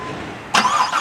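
A Corvette C7 engine fires up by remote start after a short quiet stretch, catching abruptly and settling into a loud, close idle.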